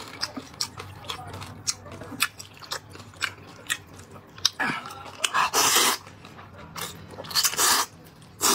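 Someone bites and chews roasted pork elbow close to the mic. Soft crunchy bites repeat through the eating, and louder bursts of noise break in near the end.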